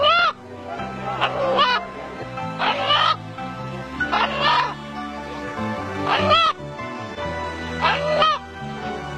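A rooster crows several times in repeated loud, close calls, each a strained, drawn-out cry separated by short pauses, over a low steady background hum.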